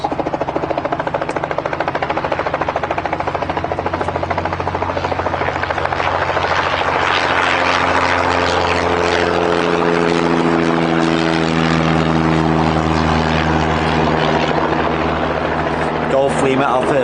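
A Robinson helicopter crossing Barton Aerodrome, Manchester during a fly-in event, its steady loud rotor thrum and engine drone filling the air throughout, rising slightly as it passes, with people talking over it.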